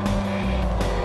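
Car engine roaring steadily in Watch Dogs, loud and continuous for a brief moment with a slight tire squeal, no talking.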